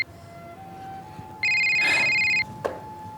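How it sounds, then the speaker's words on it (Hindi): A mobile phone rings once with a bright electronic tone lasting about a second, heard indoors over a low room hum, followed by a small knock. "देव का फोन।"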